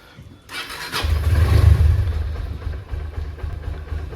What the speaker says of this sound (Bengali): তো বাইক স্টার্ট দেবো এখন